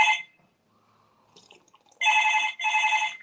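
A telephone bell rings in two loud, bright bursts near the end, preceded by a short ring at the start and faint quiet background in between.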